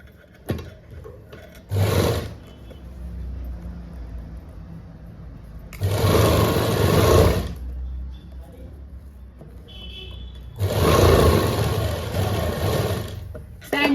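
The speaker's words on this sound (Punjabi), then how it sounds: "ਇਹਨੂੰ ਇਦਾਂ ਸੈਂਟਰ ਦੇ ਵਿੱਚੋਂ ਸੀਨ ਲਗਾ ਲੈਣੀ ਆ" A sewing machine stitches a seam down the centre of a strip of suit fabric in three loud whirring bursts of one to two seconds each, separated by quieter pauses with soft handling noise.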